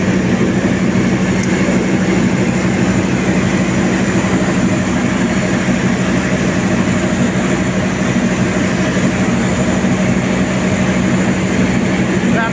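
A loud, steady rumble of the Argo Semeru passenger train stopped at Solo Balapan station fills the space, a constant low engine hum with a faint high whine above it, no pauses.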